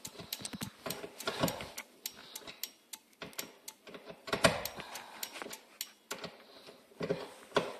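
A Daewoo Matiz hazard light relay clicks in a steady, even rhythm of sharp, close ticks, with faint mechanical noise between them and no talking.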